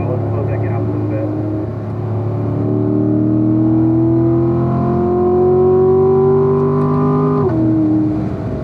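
A car accelerates around a track under steady throttle, its loud engine drone climbing smoothly in pitch for several seconds before dropping sharply as the driver lifts off, with a voice coaching over the engine.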